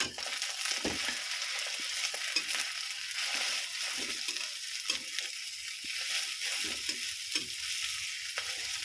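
Sausage frying in an oily pan for nasi goreng, a steady, close sizzle with occasional stirring scrapes and no voices.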